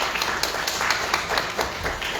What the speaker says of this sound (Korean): 박수로 맞아주시면.